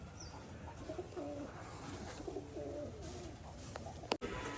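Domestic pigeons in a loft cooing softly, a few faint low calls close by in a quiet room, ending with a brief sharp knock.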